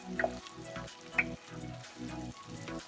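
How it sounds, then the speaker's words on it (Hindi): Masala and onions for a chicken curry fry in a pan with a soft, continuous sizzle, broken by a couple of light utensil taps and low background hum, close and fairly quiet. "मसाला भी भुनता हुआ दिख रहा है।"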